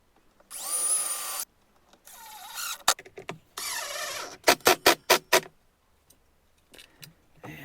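Drill-powered homemade wood lathe whirring up in several separate bursts, with a run of short, sharp mechanical clicks and knocks between them, close and fairly loud, no talking.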